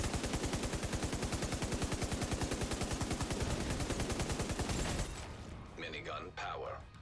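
A light machine gun in a shooter fires a fast, unbroken stream of rounds, loud and close for about five seconds. It stops abruptly and a voice follows.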